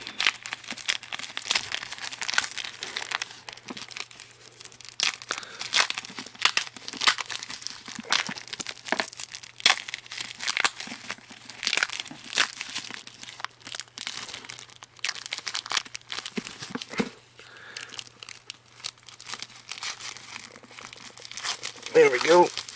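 Plastic wrapping peeled and torn off a John Lennon signature box set, with continuous close crinkling and crackling plus sharper tearing bursts throughout, and a voice talking at points.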